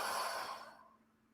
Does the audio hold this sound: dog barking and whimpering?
no